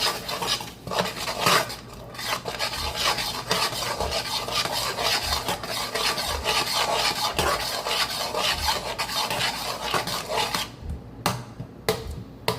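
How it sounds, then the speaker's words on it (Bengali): A spoon scrapes and stirs thick masala mixed with tomato paste in a pan, a steady rasping, rubbing sound with occasional clinks against the metal, close and continuous for several seconds. "এবার ভালো করে নাড়িয়ে নেব মশলাটাকে।"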